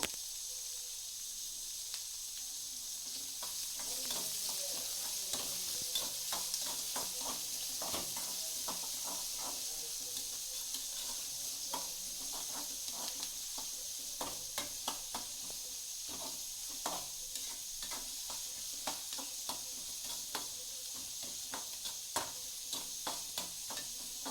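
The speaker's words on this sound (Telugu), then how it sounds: "పప్పు వేసి రోస్ట్ చేశాక" Chana dal and onions roasting in oil give a steady, faint sizzle broken by light scraping and clicking stirs, with no one speaking.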